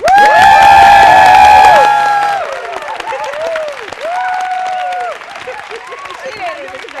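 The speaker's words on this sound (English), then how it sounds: "let's ask the studio audience to cheer real quick" Studio audience on a late-night TV talk show cheering and applauding loudly, with sharp whoops over the crowd noise for about two seconds, then fading into scattered voices and high chirping calls.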